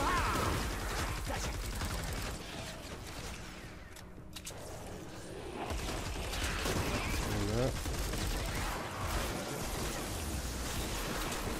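A weapon reloading in Fortnite Save the World, with mechanical ratcheting clatter buried in a dense, steady wash of game gunfire and effects that runs loud throughout.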